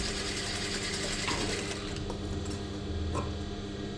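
A sewing machine stitches a pillow cover in a steady, fast mechanical run with soft rhythmic ticking and a continuous hum, heard alone at moderate level.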